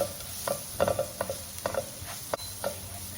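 Three cloves of garlic frying in a pot for a tomato-based Egyptian vegan green bean stew, stirred with a spoon: a soft sizzle under a series of light scraping strokes in an irregular rhythm, close and fairly quiet.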